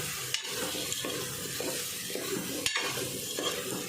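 Potatoes and eggplant sautéing in a pan for a chawli and potato curry, with a steady close sizzle and a few sharp scrapes of a stirring spoon, no voices.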